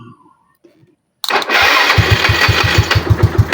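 A motorcycle with a weak battery is silent, then the starter cranks and the engine catches into a loud, even chugging idle that continues to the end.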